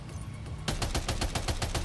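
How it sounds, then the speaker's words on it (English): A heavy machine gun fires in Death Stranding 2 with a rapid, even burst of loud close shots after a brief lead-in. "Heavy machine gun."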